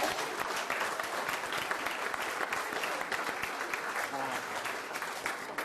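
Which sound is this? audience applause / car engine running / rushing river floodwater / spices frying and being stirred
audience applause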